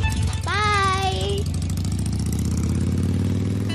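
A motorcycle engine idling close by as two parents ride off on the bike, a steady low rumble throughout, with a brief high whistle-like tone over it early on.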